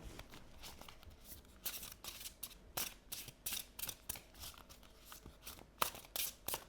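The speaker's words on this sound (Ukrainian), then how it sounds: "Ох, як приємно ці карти тасувати." Tarot cards are shuffled in quick, crisp riffling bursts, repeated several times, close and fairly quiet.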